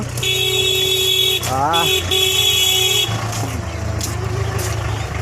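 Vehicle horns blare in long, overlapping blasts, one steady and others pulsing, amid busy traffic noise in Gulmarg, Kashmir, with a voice heard in the mix.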